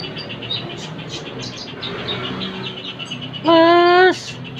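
A pet magpie robin (murai) chirps in a run of short, high calls, then lets out a loud, clear whistled phrase close by near the end.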